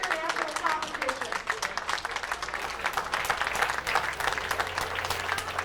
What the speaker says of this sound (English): How about a big round of applause for these athletes who will represent the USA in international competition.